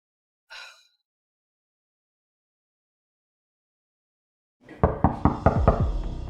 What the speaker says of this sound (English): I've been knocking for ages.